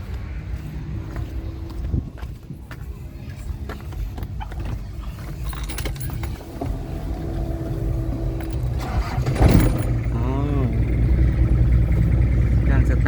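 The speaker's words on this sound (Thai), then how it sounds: "สตาร์ทเครื่องฟังเสียงให้นะครับ" A 1993 Toyota Hilux with a 2.5 engine cranks and catches, then settles into a steady, rough idle heard close by, with a louder burst partway through and someone talking briefly over the engine.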